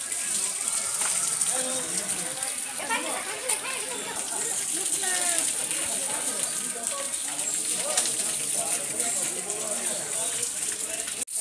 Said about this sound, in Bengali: এই ঝর্ণার জলটা এই পাইপ দিয়ে যাচ্ছে